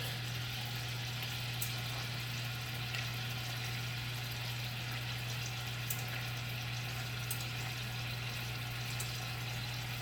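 Sliced onion and minced garlic sautéing in a pot, a steady, even sizzle and gentle crackle that carries on without a break, alongside a low constant hum.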